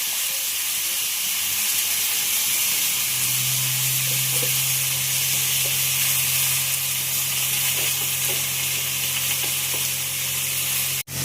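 Chutney frying and splattering in a hot pan, a steady loud sizzle with hiss that continues throughout, joined by a low steady hum from about three seconds, with no talking.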